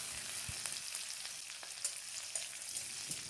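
Mustard seeds, curry leaves and chopped green chili sizzle in hot oil for bread upma, a quiet continuous frying hiss with small pops and crackles, no talking.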